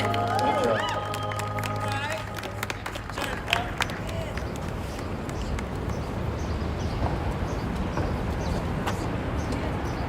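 Dense crowd applause and cheering at an outdoor Black Pride flag raising at Philadelphia City Hall, steady and sustained, with sustained tones and murmured voices early before the clapping fills the rest.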